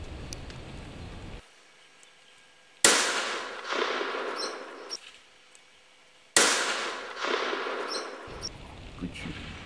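Two sharp, loud reports from a .416 Rigby rifle during a buffalo hunt, a few seconds apart, each cracking suddenly out of near silence and trailing off into a decaying echo.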